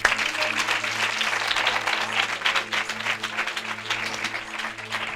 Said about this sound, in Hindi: आइए प्रभु के लिए जोरदार ताली बजाइए।